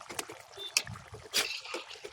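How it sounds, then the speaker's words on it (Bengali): Water simmers in a covered pan with eggs, giving soft, irregular bubbling and gurgling pops, with a few brief louder splashes spaced through the quiet, close-up sound. "পানি বগলাইতেছে।"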